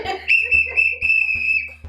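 A steady, shrill whistle tone holds for about a second and a half, with a few low thumps beneath it.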